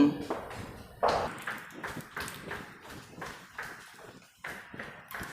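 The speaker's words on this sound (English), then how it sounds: "knock knock knock" Knocking on a condo unit's door in a Hua Hin studio building: a series of sharp, close taps in several rhythmic bursts, fairly loud and alone.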